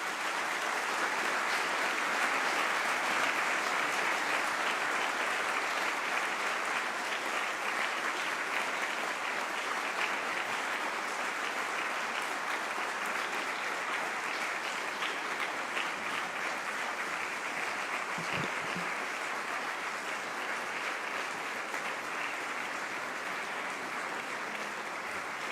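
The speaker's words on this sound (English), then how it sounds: "A lot of applause for His Excellency." Sustained applause from a large audience at a digital-economy conference in Kenya, honouring the President. The clapping is dense, steady and full, running the whole length with no speech over it.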